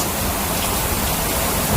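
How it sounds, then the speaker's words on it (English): Steady, heavy rain pours down at a marina in the Berry Islands, Bahamas, a dense, even hiss close to the microphone throughout, with no talking. "Well, it's raining today."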